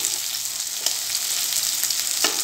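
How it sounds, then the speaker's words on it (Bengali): Sliced onion fries in a karahi with a loud, continuous hissing sizzle, up close, with a couple of sharper spatter pops. "তো পেঁয়াজটা এখানে হালকা ভাজা ভাজা হয়ে গেছে"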